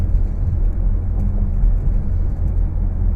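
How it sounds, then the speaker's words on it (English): Porsche 991 GT3 RS with sport exhaust, a deep steady engine rumble heavy in low tones, heard from inside or close by as a loud continuous drone without talk. "This car just sounds so mean with the sport exhaust."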